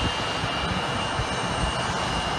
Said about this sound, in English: Yeah, two airplanes.